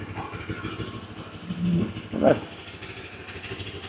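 A CFMoto 700MT motorcycle engine idles in a steady low rumble throughout, with someone talking over it.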